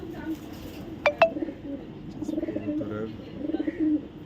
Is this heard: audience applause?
no